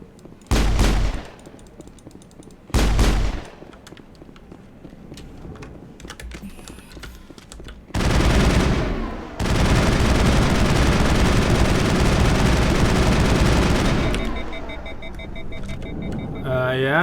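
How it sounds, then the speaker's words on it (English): Gunfire in the video game Mass Effect: two short loud bursts early on, then a long dense stretch of sustained shooting and action noise that fades toward the end. "Yeah, I just shot her a couple of times."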